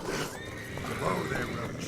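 Roach the horse in the video game The Witcher 3 lets out a clear rising and falling neigh amid battle noise, with voices speaking around it.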